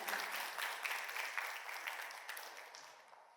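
Applause from a theatre festival audience, steady and fairly loud at first, then gradually fading over a few seconds with no voices on top.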